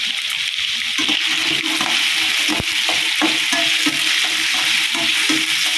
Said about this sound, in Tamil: உருளைக்கிழங்கையும் நம்ம நல்லா கிளறி விடணும்.